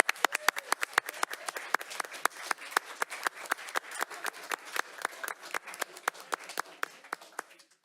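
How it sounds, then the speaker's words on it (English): Audience applause for parents at a school board meeting, a steady run of distinct claps from a modest crowd, fairly faint and fading slightly toward the end. "So everybody, a round of applause for our parents."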